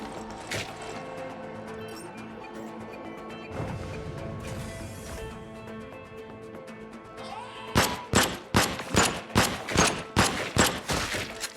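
Rapid bursts of gunfire in the video game Void Bastards, a dense volley of loud, sharp shots repeating in a steady rhythm after a stretch of clattering, mechanical game noise.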